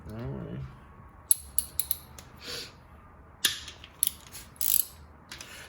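A ratchet wrench loosens tight, torqued-down bolts on an S14 car. Short bursts of close metallic clicks are separated by quiet pauses, and a brief voice is heard at the start.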